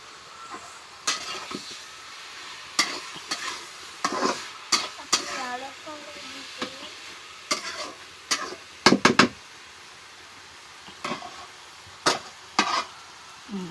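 Gura fish curry with sugar and coriander leaves sizzles quietly in a pan while a spoon scrapes and clanks against the metal in irregular bursts of stirring.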